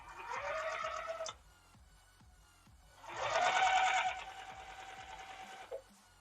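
A sewing machine stitches blue fabric in two bursts of rapid, steady whirring, the second starting after a short pause, close up and with no talk.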